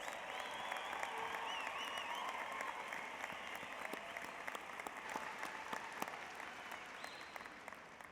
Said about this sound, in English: Everyone, a round of applause for the 2017 graduates.